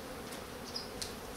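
Honeybees crawling through the queen-excluder grid of a breeder hive give a faint, steady buzz with a couple of brief, slightly louder flicks of wing noise.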